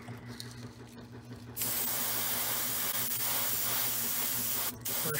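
Spray paint hisses in one long, steady, loud burst from a can while a prop power-weapon blade is being coated, stopping briefly near the end before a short final spurt.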